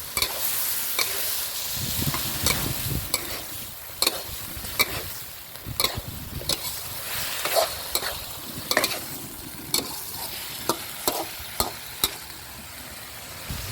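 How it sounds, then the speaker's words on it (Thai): Fried eggplant stir-fried with minced pork in a pan, a steady close sizzle broken by repeated scraping and clacking strokes of a spatula against the pan, with no speech. "ต่อจากนั้นก็ให้ใส่มะเขือยาวที่เราทอดเตรียมเอาไว้ใส่ลงบนผัดตอนนี้ได้เลยนะครับผม"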